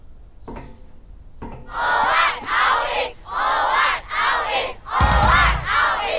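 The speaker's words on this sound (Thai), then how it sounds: "เมื่อมนุษย์ผอ.ลงจากโพเดียมมักจะมีเสียงอังกอร์จากมนุษย์เด็กนักเรียนเสมออ" Students at a school assembly shouting for an encore as the principal leaves the podium: a large crowd of young voices chanting in rhythmic, repeated bursts, loud and roomy, building after a couple of faint knocks at the start.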